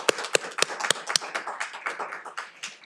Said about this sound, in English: So we can all applaud them